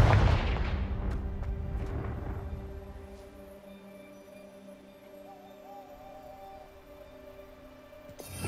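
A Confringo fire spell goes off in the Hogwarts Legacy video game, a loud booming blast at the start that rolls off into a long fading rumble, with quiet ambient game tones underneath and a faint new burst at the very end.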